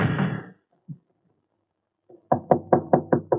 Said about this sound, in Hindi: रात के 3 बजे दरवाजा खटखटा रहा है कोई?